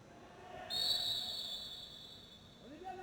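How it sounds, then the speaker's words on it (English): A sharp, sustained referee's whistle blast rises out of crowd murmur and holds for more than a second before fading under the background noise. "Whistle blown here"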